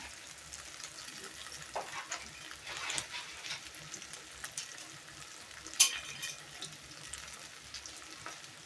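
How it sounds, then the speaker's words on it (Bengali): Lentil flour frying in a pan, a quiet, steady sizzle with soft scraping stirs and a few sharper clinks, close and alone without talk. "তো এই যে ভাজা ভাজা হয়ে গেছে প্রায়"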